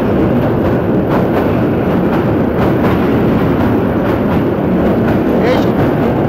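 A local train rumbles across the old red 1937 Bhairab Meghna railway bridge, a steady loud clatter of wheels and wind roar running throughout without pause.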